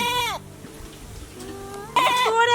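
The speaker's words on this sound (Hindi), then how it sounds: "बकरी के पानी पिया दे देखि केना भेमिया है" A nearby goat waiting to be watered gives two loud, quavering bleats, one cut short at the start and another near the end, with quiet rustling between them.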